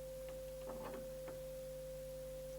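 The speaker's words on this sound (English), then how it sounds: "Here's the overtone." A synthesized overtone plays as a pure, steady sine-wave tone, holding evenly at one pitch for a few seconds alongside fainter steady hums and a few soft, brief taps.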